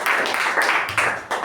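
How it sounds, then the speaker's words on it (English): A round of applause at a club meeting, a short burst of scattered hand clapping from a modest group, moderately loud and close, with a few sharper claps standing out over about a second and a half. "So let's give a big round of applause to our master of ceremony."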